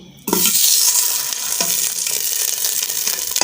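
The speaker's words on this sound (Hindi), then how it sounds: "अब हम इसमें डालेंगे ये आधा कप घी।" Half a cup of ghee heats in a washed kadhai, a dense steady sizzle starting abruptly and crackling evenly throughout, close and fairly loud with no voices.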